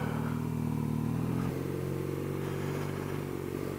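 A 2017 BMW R Nine T Racer with a boxer engine rides along, its engine droning loud and steady close by, with a slight drop in pitch partway through as if shifting or easing off.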